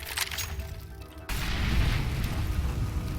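An incendiary grenade thrown in the CS:GO video game, on the Inferno map, bursts with a sudden loud whoosh about a second in, then settles into a steady roaring crackle of flames.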